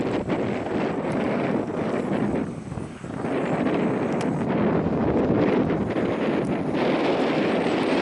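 Strong wind buffeting the microphone on an outdoor walk, a loud continuous roaring rumble that dips briefly then carries on.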